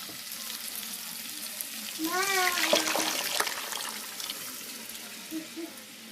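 A ground gravy paste for tomato sambar sizzles steadily in a pan, a soft continuous crackle with occasional stirring scrapes and a brief voice murmuring over it.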